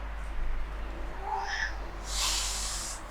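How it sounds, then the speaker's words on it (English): A cat lets out a single drawn-out meow rising in pitch near the end, with a brief chirpy vocal just before it, over a low steady hum in a quiet room. "All right, Wimmy, you don't even have your meow yet."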